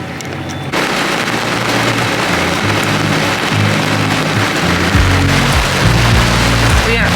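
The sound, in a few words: heavy rain falling on a sailboat during a storm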